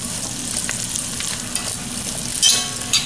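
Chicken and summer squash fry in a pan and are stirred, with a constant close sizzle and scattered scraping, clattering stir noises.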